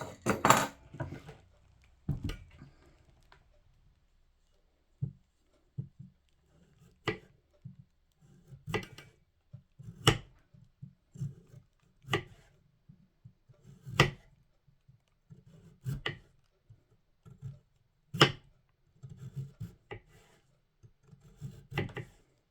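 Potatoes being cut by hand in a home kitchen, a knife knocking sharply against a board in a steady run of single taps about two seconds apart, with faint scraping and shuffling between the cuts and no talking.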